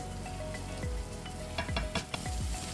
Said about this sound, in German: mache ein bisschen Platz in der Pfanne und röste erstmal nur das Tomatenmark von jeder Seite kurz an.